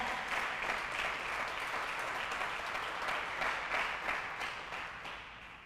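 A church congregation applauding during a sermon, broad continuous clapping from many people that holds steady and then gradually tapers off toward the end.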